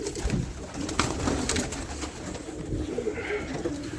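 Pigeons coo softly in low, throaty murmurs, several birds close by amid faint background rustling and no speech.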